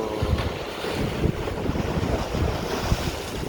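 Rough sea off Malta churns with waves washing and slapping under heavy wind buffeting the microphone, a continuous close roar heard from a fishing spot with no voices.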